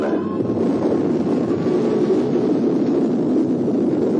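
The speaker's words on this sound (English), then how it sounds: "Engine start. Ignition." Mariner 4 launch rocket engine roaring at ignition, a steady, loud, broadband rumble sustained throughout with no talk over it.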